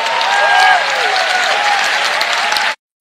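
Applause from an audience in the Philippine Congress: dense, loud clapping that holds steady for nearly three seconds and then stops abruptly.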